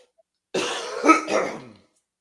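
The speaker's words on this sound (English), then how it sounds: "I hope I didn't blow your ears out with that cough" A single loud, harsh cough close to the microphone, roughly a second long, surrounded by silence.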